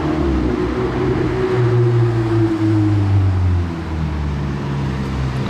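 A car drives past near a bend, its loud, close engine drone holding steady and then sliding gently down in pitch as it goes by, with no gear change.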